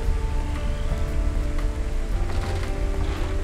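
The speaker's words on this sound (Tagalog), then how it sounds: "Magpapatila lang naman ako ng ulan eh." Steady rain pattering on a surface, a dense continuous hiss with scattered drips, close and fairly loud, no voices.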